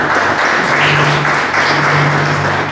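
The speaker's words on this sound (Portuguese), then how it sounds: "Palmas para Jesus." Church congregation clapping in a dense, steady round of applause that fills the space for a few seconds, loud and close, with no clear talk over it.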